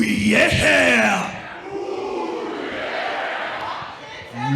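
A wrestling crowd at a WFA show bellows a loud, drawn-out "oh yeah" in James Hetfield style, a massed yell that swells at first then trails into sustained crowd noise.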